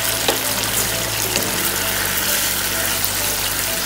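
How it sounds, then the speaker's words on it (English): Mushrooms simmering in vegetable broth for a garlic mushroom dish give off a steady, close bubbling and sizzling hiss, constant throughout with a low background hum. "My mushrooms are now cooking."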